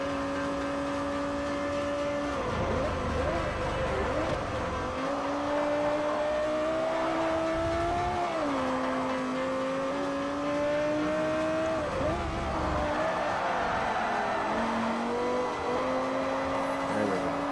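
Race car engine in the video game Forza Motorsport 4, droning steadily and shifting pitch through a final chicane with brief tire squeal, loud and continuous with no talk.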